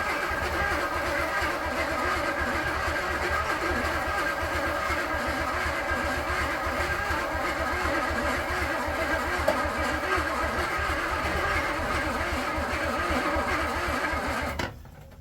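A barn-find Triumph TC 2000 engine kicks over and runs briefly, a steady mid-pitched rumble lasting nearly the whole stretch before cutting out abruptly at the end as the fuel runs out.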